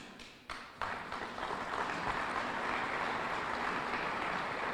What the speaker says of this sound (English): That applause was for Tracy.